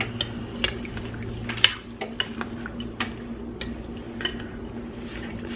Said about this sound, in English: And you're just going to give that a stir.